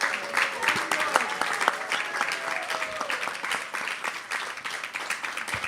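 An audience claps at a Janmashtami celebration, sustained applause from a crowd at moderate loudness with no break.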